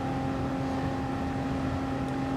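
Race car engine at over 200 mph on the Tokyo Expressway in Gran Turismo Sport, a sustained high-pitched whine at steady loudness in a short burst, with no talk.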